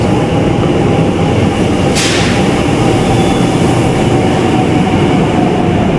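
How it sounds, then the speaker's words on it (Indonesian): Metro train at a station in Venezuela, a steady loud rumble of the carriages with a brief hiss near the start and a faint whine running underneath, no voices. "Ini ada metronya, guys."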